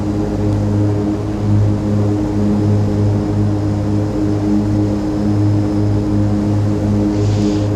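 A propeller aircraft engine in the FSPassengers flight simulator game drones loud and steady, with a deep pulsing hum and strong low tones that stay constant throughout.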